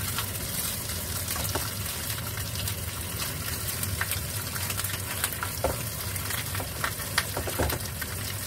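Fish frying in a pan with its skin browning, the first step of a Chinese pork bone and arrowroot soup, giving a steady, even sizzle with scattered small pops throughout.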